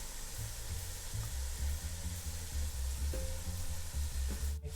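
Seaweed and beef seasoned with soy sauce stir-frying in a pot, with a steady mid-level sizzle over a low rumbling hum and occasional light utensil taps, ending in a brief scraping burst.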